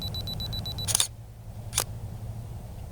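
SLR camera shutter firing while photographing the moon, two sharp mechanical clicks about a second apart over a low background hum, close and crisp.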